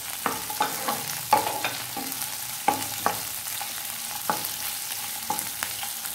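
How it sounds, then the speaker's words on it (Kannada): Capsicum pieces fry in a pan for chilli paneer, a soft sizzle broken by repeated sharp clacks of a spatula stirring against the pan at an uneven rhythm. "ಇದನ್ನು ಫ್ರೈ ಮಾಡ್ಕೊಳ್ಳಿ"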